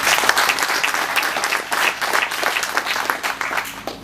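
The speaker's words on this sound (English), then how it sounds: "Let's give them an applause." An audience claps for the SIDA sponsors at the launch of a mobile agricultural lab, steady dense applause that fills the room with no voices above it.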